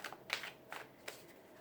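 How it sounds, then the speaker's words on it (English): A deck of Witch's Tarot cards gets a quick shuffle, giving three soft, brushing bursts of card noise spaced apart, quiet and close with no talking. "Now I have our Witch's Tarot, so I'm just going to do a quick shuffle."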